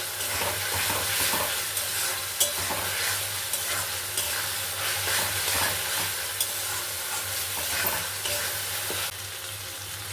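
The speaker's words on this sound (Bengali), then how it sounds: "এই আলুটা দিয়েও একটু নাড়তে হবে" Potatoes frying in oil in a pan for banana-flower curry (mochar dalna), stirred throughout, giving a loud, dense, continuous close sizzle with a soft scraping texture and no pauses.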